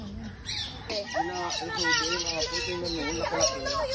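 Birds squawk in a busy flurry of harsh, bending calls, several overlapping at close range, with children's voices and chatter mixed in underneath.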